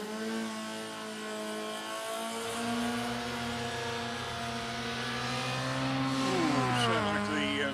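Car 66 in Golf Racing Team colours accelerates at a historic race revival, its engine note climbing steadily and wavering near the end as if the clutch is slipping, loud and close throughout.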